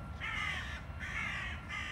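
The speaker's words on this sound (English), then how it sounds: "The crows." Crows cawing outdoors, three loud harsh caws in a steady rhythm, close and clear with no talking.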